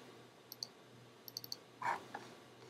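Computer mouse clicks while saving an image file: two quick clicks, then a faint triple click, then a louder click burst, all close and crisp over a quiet hum.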